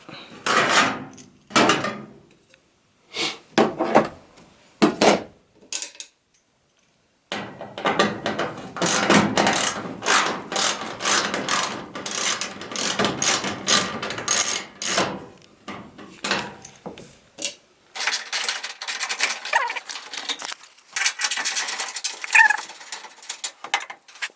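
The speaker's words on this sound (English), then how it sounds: "We're gonna unscrew these screws over here" Screws being removed from the back panel of a Whirlpool Cabrio dryer, heard as close, irregular metallic clicks, scrapes and rattles of a tool with short pauses between bursts.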